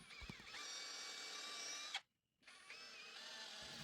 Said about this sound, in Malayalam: എന്നിട്ട് ചെറിയ ഡ്രിൽ ബിറ്റിട്ട് ഇതുപോലെ തുളച്ചു കൊടുത്തു.